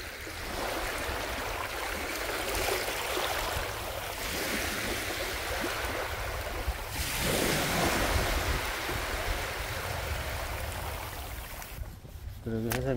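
Gentle ocean waves wash at a calm seaside, a broad continuous surf hiss with slow swells, steady and moderately loud, with wind rumbling on the microphone.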